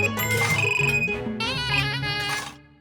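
A telephone rings with a loud melodic ringtone, a bright electronic tune that plays for about two and a half seconds before stopping.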